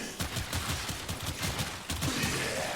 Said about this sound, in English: blast these guys. They're pretty basic pistols.